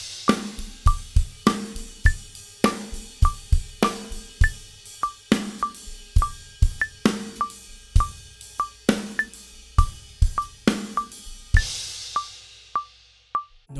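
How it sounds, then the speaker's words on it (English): A drum set plays a groove of steady eighth notes shifting into dotted eighth notes, with punchy kick and snare hits under a ringing cymbal or bell pattern, close and alone without talk. "we're going to take a look at 8th notes into dotted 8th notes, and it sounds like this"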